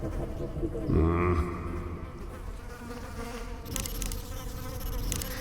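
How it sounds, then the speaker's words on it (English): Flies buzzing in the video game Stasis, a loud droning hum that swells near the first second and then settles into a steady insect drone under dark ambient game sound. "And they're not bees, obviously, but flies."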